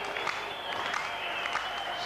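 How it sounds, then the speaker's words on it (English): Rugby league crowd at a 1997 Paris St Germain versus Castleford match, with slow clapping and jeering from the stands running steadily underneath a commentator's voice. "the French fans are slow and clapping"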